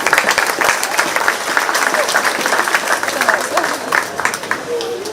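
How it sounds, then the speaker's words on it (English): Crowd applause rings out at a 4-H/FFA market lamb sheep show at the Shelby County Fair: steady, dense clapping for about five seconds with a few scattered voices mixed in. "Let's give both of those kids a round of applause."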